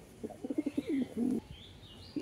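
Bombay pigeons coo in a rapid series of soft, rounded calls, close and clear over a quiet background.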